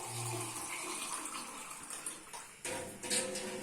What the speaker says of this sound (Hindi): पानी इतना डालूंगा कि हमें थोड़ा सा ये मैगी लिक्विड ही चाहिए जी